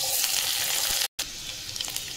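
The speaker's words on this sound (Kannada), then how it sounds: "ಈಗ ಫಸ್ಟ್ ಚಾಪ್ ಮಾಡಿದ ಬೆಳ್ಳುಳ್ಳಿ ಹಾಕೊಂಬ್ರಿ." Chopped garlic sizzles steadily in hot oil in a pan for street-style veg noodles, a dense hissing crackle that cuts out for a split second and then resumes at the same level.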